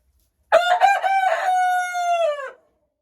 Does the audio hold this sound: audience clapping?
no